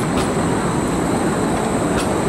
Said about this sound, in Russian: Вот еще трамвай.